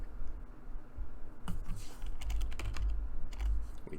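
Computer keyboard typing in a game session, a run of clicky keystrokes ending in a firmer press of the return key, close and moderately loud with no talking.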